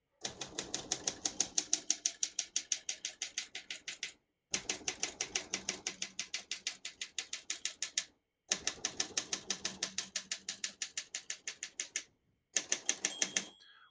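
Rapid mechanical clacking of a 1970 Olympia SM9 vintage portable typewriter, keys struck in steady bursts of a few seconds separated by short pauses, close and clear.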